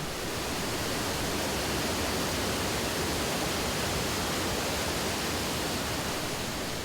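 Yongchu Falls, a 15 m waterfall, pours between huge rocks with a dense, constant, loud roar of falling water and no other sounds.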